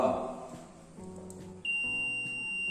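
Buzzer on a prototype smoke detector built with an MQ2 gas sensor switches on partway through, a steady high electronic tone that holds to the end over a quieter room background with faint voices.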